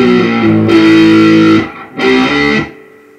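Distorted electric guitar plays a riff, two loud sustained chugging phrases on low strings with a short break between, ringing out at the end.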